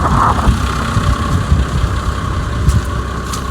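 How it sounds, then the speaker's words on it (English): Diesel engine of a JCB 403 Plus compact loader idling on a muddy winter farmyard, a steady low rumble heard up close and unbroken, with no talking. "I've left the engine running because I'm going to have to turn the wheels to do the inside of the wheels"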